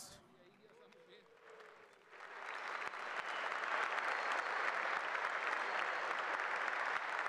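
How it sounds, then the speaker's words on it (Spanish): Crowd at a jai alai fronton in Mexico City welcomes women players onto the court: quiet hall noise, then applause swells in at about two seconds and stays loud and steady. "Recibamos con un fuerte aplauso a nuestras pelotaris."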